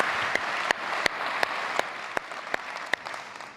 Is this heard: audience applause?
yes